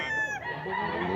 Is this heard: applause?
no